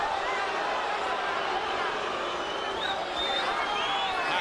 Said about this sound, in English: Pacquiao fans booing because they thought the punch was low